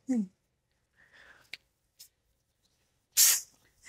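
A short, sharp burst of Japanese insect repellent aerosol spray hisses loudly near the end, after some quiet talking and a few small clicks.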